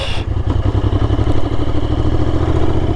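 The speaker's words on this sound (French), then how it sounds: "très bien cette petite moto" A Royal Enfield motorcycle rides through Provence olive groves, its engine a loud, close, steady thumping drone with a rhythmic low pulse and a brief wind rush at the start, with no talk.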